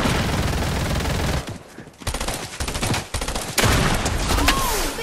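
Rapid bursts of submachine gun fire in a chaotic online shooter game, loud and close, broken by a brief lull near the middle before the shooting resumes densely to the end.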